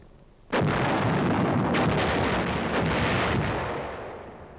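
An artillery gun fires with one heavy, booming blast that rolls and echoes for several seconds, with a few further distant reports and rumbles fading under the lingering roar.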